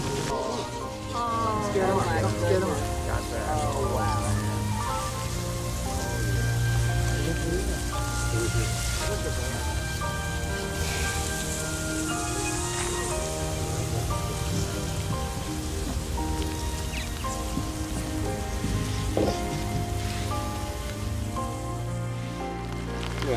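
Steady outdoor rain falls continuously in the background, evenly spread with no pauses, under dense layered bird chatter of purple martins gathering at a colony.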